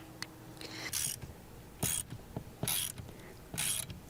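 A ratcheting spring compressor tool clicks as a bolt is loosened, four bursts of rapid ratchet clicks at a steady rhythm, close and fairly loud, with quiet gaps between strokes.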